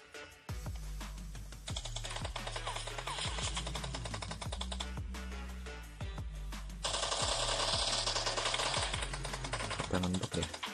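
Rapid, sustained gunfire in the mobile video game PUBG Mobile, a dense train of sharp clicking shots running for several seconds and growing louder toward the end, with no talk.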